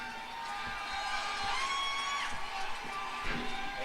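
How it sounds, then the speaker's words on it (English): Race fans at the Bristol night race cheering for Kevin Harvick, a faint, distant crowd roar with scattered whoops and shouts rising and falling over a few seconds. "All the fans here cheering on Kevin Harvick."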